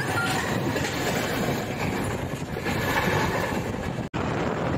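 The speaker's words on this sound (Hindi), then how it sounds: "ये देखिए ट्रेन अपनी पूरी रफ्तार में है और जैसे जैसे ही ट्रेन के पहिए घूम रहे हैं" Train running at full speed on the way to Indore, a steady loud roar of wheels and rails with a continuous rattling clack heard from inside a carriage, and a brief dropout near the end.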